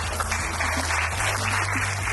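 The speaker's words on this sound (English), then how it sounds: "Please start clapping." Audience clapping at a tech competition final, steady dense applause with a low electrical hum running underneath.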